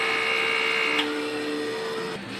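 A printer runs a strong print head cleaning cycle, giving a continuous mechanical whine and motor hum with pitch shifts partway through, close and steady without speech.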